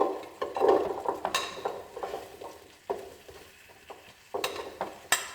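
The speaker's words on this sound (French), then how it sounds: "je vais venir déposer à côté mes patates douces" Sweet potato pieces go onto an All Clad grill beside filet mignon, bringing soft sizzling with several sharp clacks and scrapes of utensils placing the pieces, fairly quiet and without talk.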